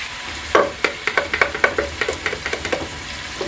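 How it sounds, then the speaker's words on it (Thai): Kangaroo fat melting into hot oil in a pan, sizzling close up with a quick run of crackling pops and light scraping taps. "น้ำมันเริ่มร้อนใส่เนยจิงโจ้ลงไปนะคะ"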